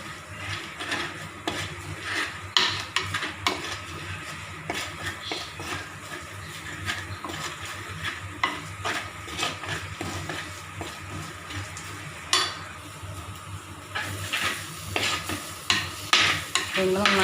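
Onions sautéed in oil with chili powder and turmeric, a continuous close sizzle with frequent scraping and clattering of a spoon stirring the pan, fairly loud and busy, with no one talking.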